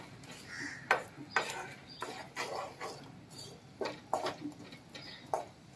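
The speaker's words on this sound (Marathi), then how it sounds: "हे थोडंसं आपण परतून घेऊया याच्यात।" Ground masala paste is stirred with onions in a pan, a spatula scraping and clinking against the metal in irregular, fairly close strokes over a soft sizzle.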